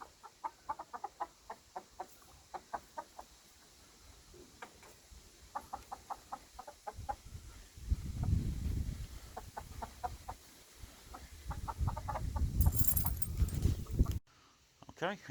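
Hens cluck in short bursts, with rumbling handling noise and other farmyard sounds between the calls.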